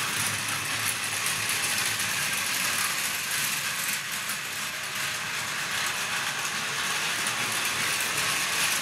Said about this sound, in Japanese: ポイントを手動で切り替えながら、列車を8文字に走行させます。